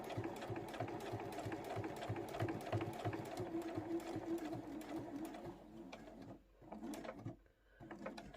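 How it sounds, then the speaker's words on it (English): A sewing machine runs a long continuous seam on a large crossbody phone pouch, its rapid needle rhythm steady and close, slowing briefly near the end before starting up again. "And then just sew all the way to the other end."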